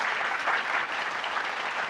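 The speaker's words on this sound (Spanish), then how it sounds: "Den un aplauso al Señor." A church congregation claps together in a steady, dense burst of applause for the Lord during a Spanish-language service, continuous and moderately loud with no voices over it.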